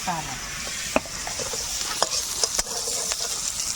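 Cumin seeds sizzling in hot oil with onion and bay leaf in a home kitchen, a steady frying hiss broken by a few sharp clinks and scrapes of a stirring spoon.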